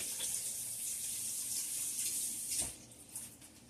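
Kitchen tap water runs steadily into a sink while lettuce is rinsed, a soft continuous hiss with a brief thud near the end, fairly quiet and close.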